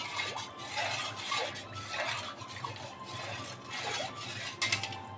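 Dal lentils get stirred and mixed in a bowl, producing repeated scraping and clinking strokes in a loose rhythm, close and moderately quiet.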